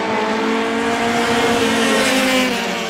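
Roadrunner-class race cars battle side by side for the lead at Star Speedway, a loud, steady, close engine roar with layered buzzing tones and a broad rushing wash throughout.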